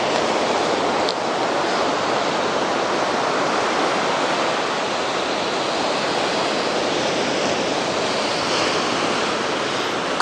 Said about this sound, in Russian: а вот и море